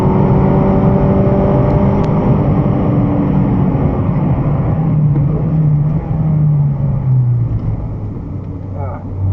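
A car driven at pace around a race track at Broadford, its engine droning loud and steady as it revs through gears, the pitch climbing and falling between corners throughout.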